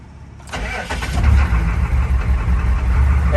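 A car engine cranks and fires up, then settles into a steady, loud idle close by, with its ABS module unplugged after deleting the system over a faulty EBCM.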